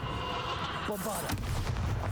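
Bombarda blasting spell in Hogwarts Legacy: a sudden explosive blast bursts out about a second in and rolls into a low, rumbling tail over steady background game sound, with a voice speaking around it.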